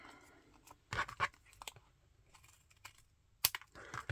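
A blade scores and cuts through scrap mount board held against a small corner template tool for shaping tag corners, making a few sharp, quiet scratching cuts with short pauses and a soft handling clatter.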